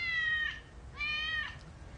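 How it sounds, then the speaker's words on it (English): A cat meows twice, close and clear, each call drawn out with a falling end, separated by a short pause in an otherwise quiet room. "Is that a cat?"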